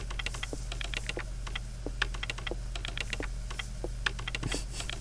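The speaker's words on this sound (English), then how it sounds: "Clacking away on his keyboard." Rapid keystrokes clatter steadily on a computer keyboard inside the game Parasite Eve, close and continuous over a low electrical hum, with no voices.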